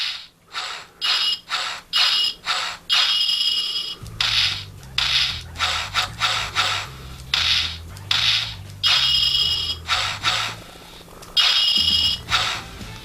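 A Kamen Rider W Driver reissue toy transformation belt gives off a series of electronic swinging and whooshing effects in quick bursts, close and moderately loud, joined partway through by a low rhythmic tone.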